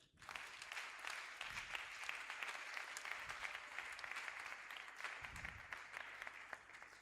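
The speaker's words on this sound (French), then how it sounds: "On peut applaudir le Seigneur." A church congregation applauds during a French-language sermon, sustained dense clapping that rises quickly and holds steady for several seconds, heard at a distance and fairly quiet, with low rumbles underneath.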